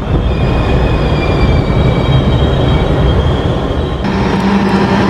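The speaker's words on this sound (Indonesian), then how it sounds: "Seru ini lihat berangkatnya kereta semen." A heavy cement freight train departs Bumiayu station, rumbling steadily nearby with a continuous low roar, faint high wheel squeal drifting over it, no voices.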